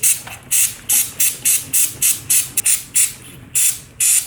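Aerosol chain lubricant hisses onto the chain of a 2014 BMW S1000R motorcycle in a garage, in about a dozen short, sharp spray bursts at a steady rhythm, close and fairly loud.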